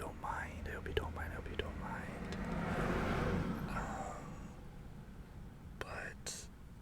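Cars pass outside a hot room, one swelling into a slow, broad whoosh that peaks and fades away, while someone whispers softly close to the microphone throughout.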